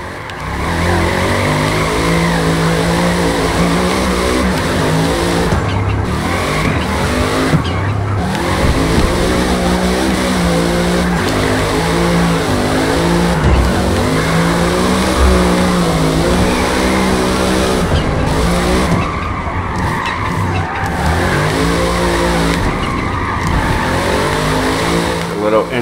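A 2016 Mercedes-AMG C 63 Coupe with a rear-wheel-drive tune drifting in Forza, engine revving hard and droning continuously with tire squeal and skidding, loud and sustained, with a voice talking over it at times.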